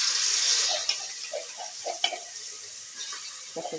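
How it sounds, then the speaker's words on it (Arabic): Garlic, salt and hot pepper sizzle in oil in a pot, with a steady frying hiss and a few soft scrapes of stirring close by. "هبتدي أشوحهم كده"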